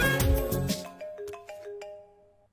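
A phone ringtone plays after a number is dialed, a melodic electronic ring of repeating chime-like notes that fades out over about two seconds.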